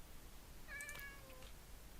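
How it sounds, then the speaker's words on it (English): A pet cat in the Minecraft video game gives a single short meow, clear and close against a quiet background. "I got a pet kitty!"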